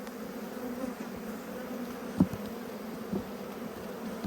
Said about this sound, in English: So many bees, and the amount of bees here with their bums in the air